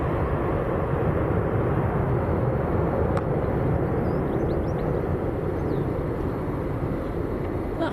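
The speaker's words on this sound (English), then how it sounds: "Powerful takeoff, fantastic." An Airbus A330 airliner takes off at Manchester Airport, bound for JFK, producing a steady, loud, broad engine roar that holds throughout without pause.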